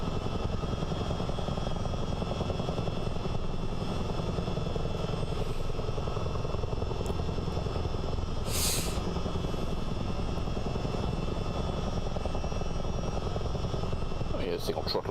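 Chinook CH-47 helicopter rotors in Microsoft Flight Simulator, a constant loud chopping drone with engine whine, and voices talking over it.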